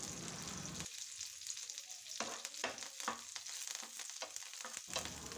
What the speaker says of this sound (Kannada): ಚೆನ್ನಾಗಿ ಫ್ರೈ ಆಗಲಿ, ಕಲರ್ ಚೇಂಜ್ ಆಗಬೇಕು ಬೆಳ್ಳುಳ್ಳಿ.